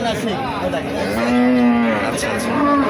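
A dairy cow at a cattle market gives a long, loud, close moo that rises and falls, with another lowing call near the end over faint crowd murmur.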